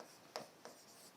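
A pen scratches out answers in a notebook, two short quiet strokes close to the microphone with a soft pause between them, in an otherwise still room.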